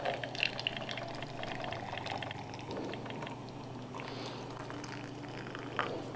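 Liquid pours into a cup in a farmhouse kitchen, a steady gurgling trickle with a faint background hum, close and moderately quiet, with no talking.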